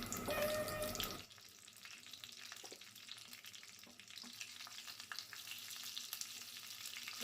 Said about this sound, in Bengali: এখানে আমি শুকনো লঙ্কা কাঁচা লঙ্কার ছক দেব।